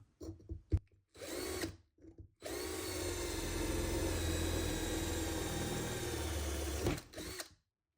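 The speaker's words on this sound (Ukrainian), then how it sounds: "Давайте перевіримо ось таке свердло з ось такого набору." A few brief clicks and short bursts, then a power drill whirring steadily for several seconds as a worn number 6 metal bit grinds into steel, before winding down.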